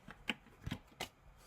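Tarot cards shuffled by hand in a quiet room, with three or four short riffling bursts at an uneven pace and no talking.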